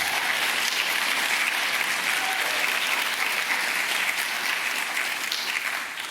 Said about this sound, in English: So let's just give a round of applause for that work again.